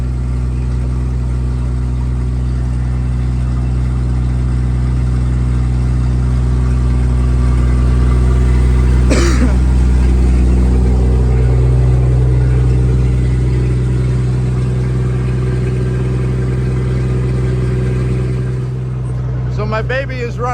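An old fire truck engine idles loudly and steadily after a jump start, a constant low rumble with a brief rise near the middle before it settles and tails off at the end.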